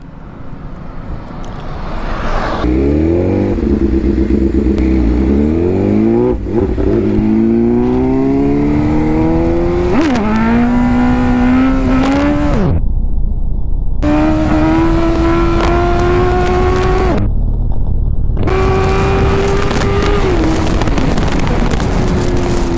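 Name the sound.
motorcycle engine revving during a long wheelie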